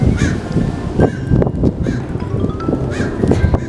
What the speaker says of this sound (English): And then a crow.